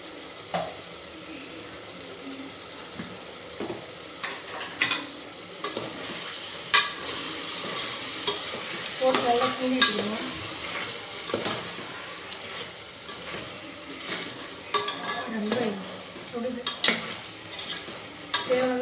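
Garam masala and ground pepper stirred and frying in a pan for village-style chicken biryani, with steady close sizzling and repeated scraping strokes of a spoon against the pan throughout.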